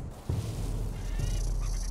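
A bird calls in the video game Survival: Fountain of Youth, with two honking, goose-like cries close by over a low ambient drone.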